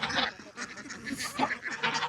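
Nearby fowl make a busy run of short, nasal clucks and squawks, several birds calling in quick irregular bursts close by.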